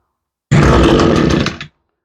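Echo SRM 225 string trimmer, bent and broken, its two-stroke engine catching briefly: one loud, rough buzzing burst of about a second, close by, then stopping abruptly.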